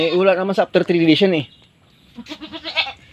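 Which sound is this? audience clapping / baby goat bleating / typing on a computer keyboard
baby goat bleating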